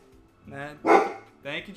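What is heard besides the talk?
dog barking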